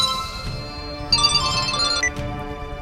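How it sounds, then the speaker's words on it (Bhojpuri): A phone ringtone sounds for an incoming call, a bright electronic melody that rises in the middle of the clip over a quiet background with no talk. "मालिक विक्रम बाबू के फोन"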